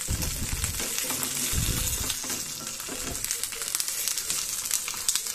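Hilsa fish wrapped in lotus leaf sizzles in a pan, a continuous soft crackling fry with a few scraping stirs and clinks near the start, close and moderately quiet with no voices.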